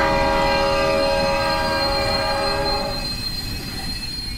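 A Shinkansen bullet train in the horror video game Shinkansen 0 rolls with a loud, steady rumble and sustained tonal humming that fades after a few seconds, no talk heard.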